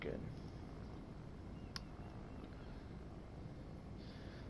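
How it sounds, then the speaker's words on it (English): A Spitfire passes at the Cambridge airshow as a faint, steady aircraft engine drone heard at a distance under crowd noise and wind. "We have the aircraft here passing"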